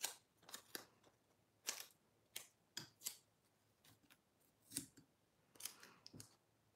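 Scissors snip through paper for a collage, a string of crisp, close, quiet cuts in an irregular rhythm, about a dozen separate snips with short pauses between them, heard alone without talk.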